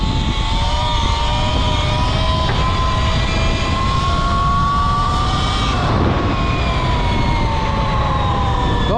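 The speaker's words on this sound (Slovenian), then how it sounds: "Dobro gre motor, res gre dobro." An Eride Pro SR electric motorbike, a wheelie-style bike, with its motor whining steadily at riding speed, a loud continuous electric tone that rises and falls slightly with throttle, with rushing wind beneath.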